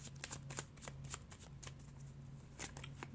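Tarot cards shuffled close up during a reading, a quick run of soft papery riffles and flicks repeating through the short stretch, with no talking.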